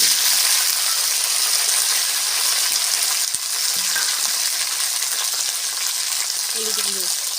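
Okra spitting and sizzling in hot mustard oil with nigella seeds, a steady close-up frying hiss throughout with a faint clink or two from utensils.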